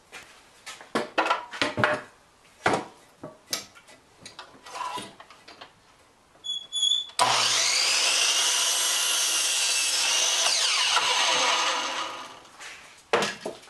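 A saw cuts through wood to trim it square, starting with a run of separate knocks and taps, then a loud, steady rasping stroke that lasts several seconds before a last sharp knock. Nobody talks.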